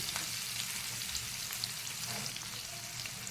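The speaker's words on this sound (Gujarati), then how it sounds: "હવે આપણે એને ધીમા ધીમા તાપે થવા દેવાનું." Gunda besan sabzi (lasode with gram flour) cooks slowly over a low flame, a soft, continuous sizzle with light bubbling that stays even and close throughout, no one speaking.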